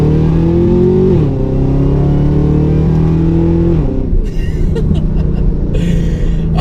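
A modified 670hp 2013 Camaro ZL1 accelerates hard in second gear, its loud engine note climbing steadily before a brief shift dip and another rising pull, with road and wind roar building toward the end.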